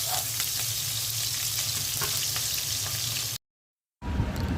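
Onion, garlic and green chili sizzle and fry in a pan, a steady bright hiss that is stirred now and then; after a brief gap the frying returns with heavier crackle.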